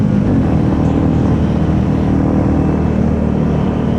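Royal Enfield Bullet 350 single-cylinder motorcycle engine held hard against the rev limiter, a loud, steady, close drone with continuous wind noise and no talking.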